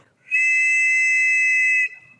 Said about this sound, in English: This is the actual whistle, and hopefully it doesn't freak out my mic.